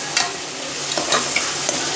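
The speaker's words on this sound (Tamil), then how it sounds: "இப்போது நல்லா வெங்காயம் வதங்கி வருது பாருங்கள்" Onions sautéing in a pan on a stove, a close steady frying sizzle with several sharp scraping clicks of stirring scattered through, no talking.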